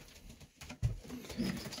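A racing pigeon in a loft coos softly with low, rounded murmurs rising and falling, close but faint, with no talk over it.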